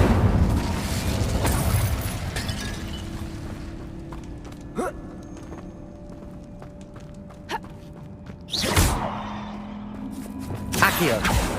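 Incendio fire spell cast in Hogwarts Legacy, a sudden whooshing burst of flame that rises over ambient game noise and footsteps, followed by a few smaller bursts in a cave setting.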